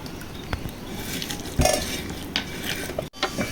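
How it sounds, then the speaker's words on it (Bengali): Potato bharta is mashed and mixed with pure mustard oil, giving close, soft scraping and clinking of utensil against a dish, with a sharper knock partway through and no talking. "এখন তেলটা দিয়ে ভর্তাটা করব।"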